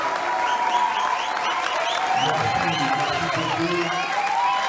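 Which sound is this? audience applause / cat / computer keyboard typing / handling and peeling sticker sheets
audience applause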